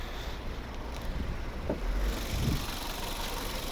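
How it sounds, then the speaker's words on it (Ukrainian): A 2010 VW Golf Plus VI's 1.4 TSI petrol engine idles quietly and evenly, a soft low hum with faint mechanical ticks and no talking. "Подивимось під капотом роботу двигуна. Мега рівно і тихо працює."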